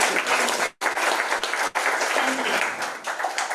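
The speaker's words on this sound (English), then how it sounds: "Can we clap for them?" An audience at a national pitch competition in Burundi breaks into loud, sustained applause that fills the room, with a short dip and a spoken word briefly cutting through.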